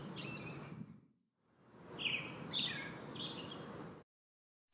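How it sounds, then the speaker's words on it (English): A hummingbird gives a few short, high chirps over steady broadband background hiss, fairly faint, with a brief gap of silence partway through. "Hummingbird."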